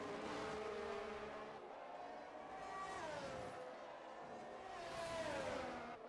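An F1 race car engine in a racing video game at Austria whines at high pitch, rising and falling through gear changes as cars pass, fairly faint and continuous with no talk.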